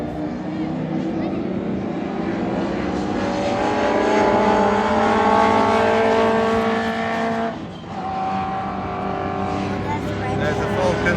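A race car slows under braking and pulls in at Donington Park, its engine note dropping with a brief dip before a steady mechanical drone continues, heard close and loud.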